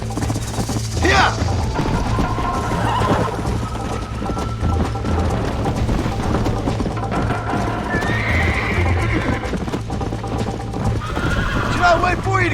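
In the video game Red Dead Redemption, rapid hoofbeats clip-clop steadily over a low hum, with a horse neighing loudly a few times; brief voices speak over the galloping.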